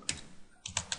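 Typing on a computer keyboard, a few quiet, close key clicks in a short burst: one tap, then a quick cluster of three.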